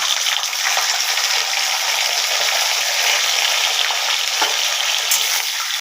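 Green beans sizzle loudly in hot mustard oil with nigella seeds and a green chilli, a dense, continuous frying hiss that stays close and steady throughout, with no voices.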